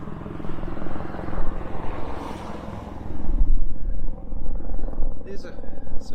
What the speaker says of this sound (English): you have the North Sea helicopters flying over your head